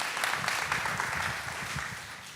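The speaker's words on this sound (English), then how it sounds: "Let's give David a round of applause." An audience at a leadership fireside chat gives a brief burst of dense, even clapping at a moderate distance, with no voices on top.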